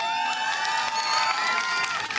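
A live crowd at a lunar lander landing event cheers and whoops loudly and continuously, with shrill voices and scattered shouts blending into one sustained roar.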